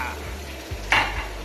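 Onions, tomatoes and milk are stirred in a saucepan, with a soft continuous simmering hiss and low scraping, then a brief brighter swish of the spoon near the end.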